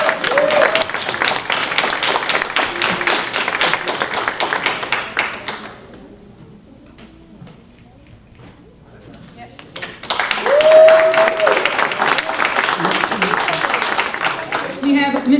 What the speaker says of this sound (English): Round of applause for Taim.